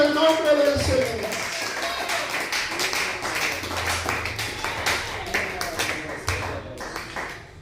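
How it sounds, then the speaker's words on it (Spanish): A church congregation claps during a service, scattered individual claps building into a loose rhythmic patter, with a voice speaking at the start and tones ringing under the clapping. "aplauda el nombre del Señor"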